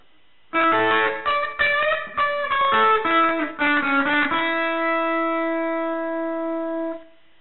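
A distorted electric guitar plays a quick riff of picked notes, then lets a final chord ring out and fade, close and clear.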